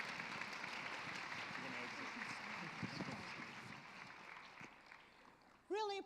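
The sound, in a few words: audience applause for a panel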